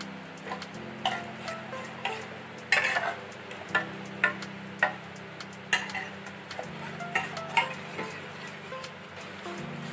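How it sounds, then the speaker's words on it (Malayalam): A spoon stirs rice flour into water for payasam, clicking and tapping against the vessel in a loose, repeated rhythm over a low steady hum. "നല്ലോണം ഇത് കലക്കി വയ്ക്കാം"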